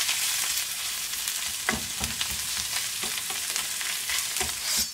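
Cooked spinach is stirred in a hot pan for a creamy soup, giving a steady close sizzle broken by repeated soft scraping strokes of a spoon, with no talking.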